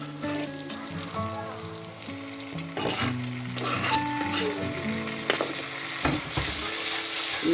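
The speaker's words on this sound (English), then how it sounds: "So we just fry it for like a minute or so, and then you go ahead and add in the tomato." Tomato frying in a pan for a Cameroonian palm-oil jollof rice with crayfish, a steady close sizzle broken by intermittent stirring scrapes and clatters, with music playing underneath throughout.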